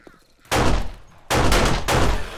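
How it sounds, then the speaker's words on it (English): Loud bursts of gunfire in 7 Days to Die during a zombie horde wave, two long, dense blasts of shots separated by a brief gap, close and harsh. "Alright, let's use a pistol."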